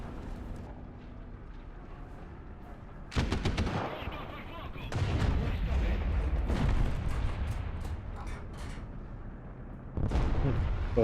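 War Thunder gunfire erupts in sharp bursts of rapid automatic shots and heavy booms, loud and close, separated by quieter gaps of engine-like rumble, with a voice faintly underneath.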